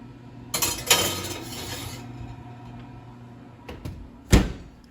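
An oven door swings open with a clattering metal rattle, then shuts with a sharp bang a few seconds later, all close by in a home kitchen with no voices.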